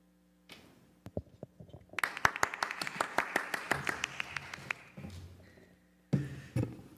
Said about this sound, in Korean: 안에 스태프들은 박수를 크게 힘있게 쳐주시고 또 여러분도 환호해 줬으면 좋겠습니다